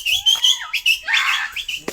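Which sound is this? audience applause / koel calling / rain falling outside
koel calling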